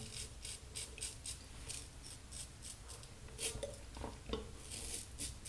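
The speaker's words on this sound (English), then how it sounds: "And I'm just shaving in the same pattern down here again" A razor scrapes stubble lathered with Burma-Shave shaving soap, making quiet, repeated rasping strokes in a steady rhythm. The strokes are close but faint, with no voices.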